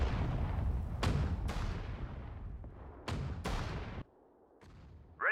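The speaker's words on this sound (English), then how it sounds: "Fire! Artillery, fire!" Artillery firing in the World War II strategy game Sudden Strike 4: several heavy booming blasts with rumbling decays, spaced irregularly, one at a distance.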